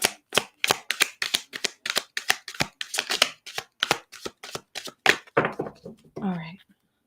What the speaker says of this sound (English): I'll do one more pass of shuffling.